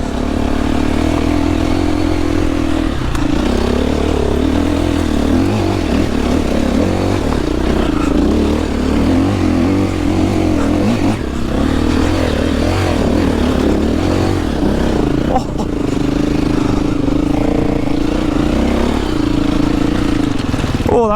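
KTM 350 four-stroke enduro motorcycle ridden over a slippery, root-covered trail, its engine droning steadily with wavering throttle changes, loud and continuous, with a rider talking over it.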